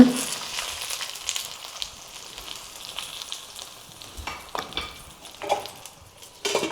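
Mutton cooking in oil in a village-style outdoor kitchen, with a soft continuous sizzle and crackle that has scattered louder pops and a few sharper bursts near the end, heard fairly close.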